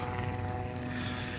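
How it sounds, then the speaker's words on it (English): A helicopter passes overhead near the Woodman Point boat ramp in Perth, Western Australia, a steady, moderately distant engine-and-rotor drone that holds constant throughout. "There's a helicopter."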